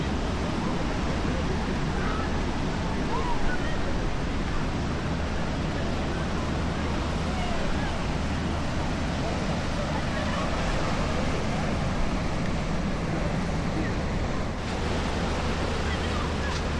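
Atlantic Ocean surf breaking on the beach at Safi, Morocco, a continuous broad roar of waves and wash, loud and sustained, with faint voices and wind mixed in.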